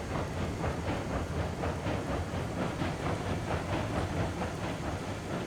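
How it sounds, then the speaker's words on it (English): A train in a video game runs along the track with a steady rumble and a fast, regular clickety-clack of wheels over rail joints. It sounds close and even throughout, with a faint hiss. "I'm just trying to get it so the train don't sound like it's racing all the time."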